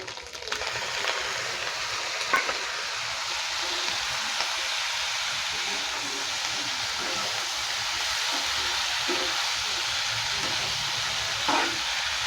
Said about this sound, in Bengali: ডিমটা এখন ভাজা হয়ে গেছে, পাস্তাটা দিয়ে দেবো।